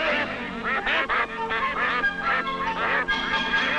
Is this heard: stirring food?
no